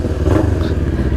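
Kawasaki Z400 motorcycle fitted with a Fuse Racing sport exhaust fires up nearby, giving a short, loud burst of rumbling, clattering engine noise with no talking.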